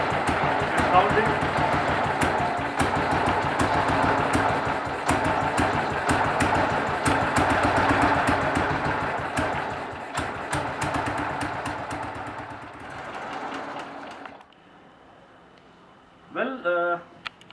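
BSA M20 motorcycle with girder forks, idling after a first-kick start: a loud, close single-cylinder thump with each stroke distinctly audible at a steady rhythm, then quieter, ending with someone speaking briefly.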